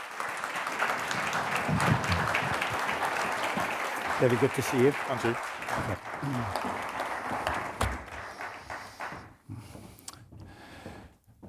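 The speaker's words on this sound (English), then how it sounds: "Give them a big round of applause as they leave the stage" Audience applause at a health conference session fills the hall as a panel leaves the stage, a dense sustained clatter that thins and fades toward the end, with a few voices talking over it.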